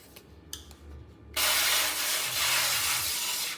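After a few quiet clicks, a steady aerosol cooking oil spray hisses continuously onto a baking pan for about two seconds, close and fairly loud.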